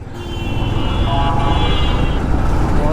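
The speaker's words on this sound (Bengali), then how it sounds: "পিছনে গাড়িটা এত অতিরিক্ত ভিআইপি হর্ন দিচ্ছে" Car horns blare continuously in heavy road traffic, a loud sustained honking from a vehicle close behind, layered over engine rumble and traffic noise.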